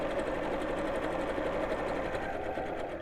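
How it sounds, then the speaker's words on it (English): A sewing machine runs steadily as it stitches a seam, a continuous close mechanical whir with a fast rhythmic needle patter that holds level throughout, with no talking. "on this machine, it's number 5, and sew down to the next line"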